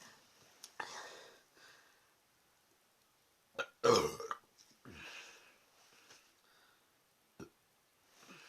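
A person burps loudly once near the middle during a burping challenge, surrounded by quieter breathy whispering and a few short sounds, recorded up close.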